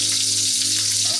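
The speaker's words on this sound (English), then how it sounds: "So it can get tough to fry all your bacon." Bacon frying in grease in a pan for carbonara, a loud, close, continuous sizzle and crackle with a low steady hum underneath, heard alone without talk.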